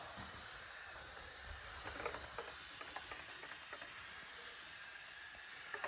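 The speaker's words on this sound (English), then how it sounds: "So this pump sprayer generates about 58 psi of pressure." A pump sprayer mists cleaning solution onto a car wheel during a winter wash, giving a faint, steady hiss with small intermittent clicks and spurts.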